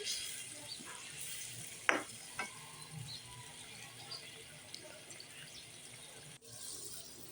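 A butterfish curry being stirred in a pan after water is added, a quiet watery simmer with a couple of sharp spoon knocks against the pan, faint and close.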